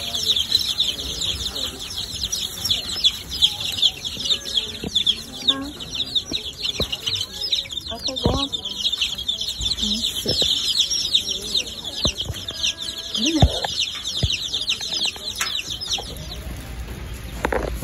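A flock of young pullets clucks and chatters steadily throughout, close by with occasional louder squawks over a constant high background hum.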